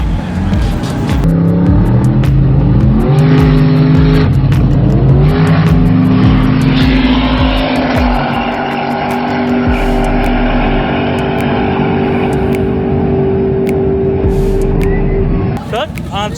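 A turbocharged rat rod truck revs hard at a drag racing event, its engine climbing and settling through several pitch changes into a sustained roar. People talk over the engine noise.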